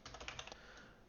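Quick, soft clatter of keys as someone types on a computer keyboard, a brief burst of several keystrokes fading into quiet room noise.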